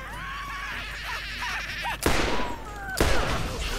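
In the video game Borderlands, a gun fires two sharp, loud blasts about a second apart over a steady background of tonal, whining game sounds.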